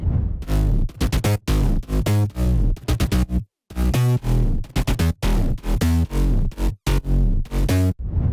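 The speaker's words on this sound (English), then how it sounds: "So mid bass altogether sounds like this." Thick future house synth bass pattern with a deep sub-bass low end beneath a buzzy mid layer, pulsing in short rhythmic notes with a few brief pauses.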